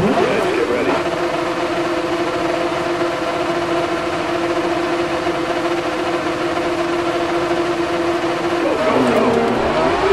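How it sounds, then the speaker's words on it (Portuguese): Kartcross car with a 600cc motorcycle engine in the racing game DIRT 4, holding a steady high-pitched buzzing drone at constant revs for several seconds, rising and falling at the start and end, loud and alone. "Motor de moto 600 cilindrado."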